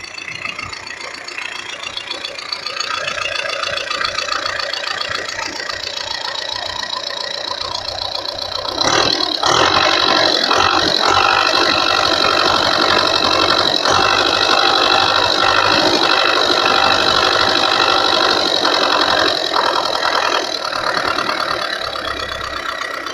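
A diesel MTZ-80 tractor engine idles with a steady knocking chug after repair, close and loud, its revs picking up quickly partway through and holding at a higher pitch without smoking.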